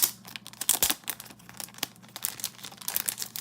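A small paper envelope holding photos, handled from a Hateful Eight steelbook, crinkling and rustling in close, irregular bursts with sharp crackles, no talking.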